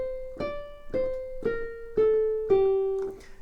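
A single piano key is played forte, loud but held back from the extreme, about five or six times in a steady pulse. The attacks are clear and close, each ringing out before the next, with nothing else heard.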